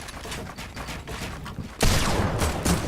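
Video-game gunfire rattles in quick bursts, a steady stream of shots followed by a louder, denser volley in the second half, close and punchy.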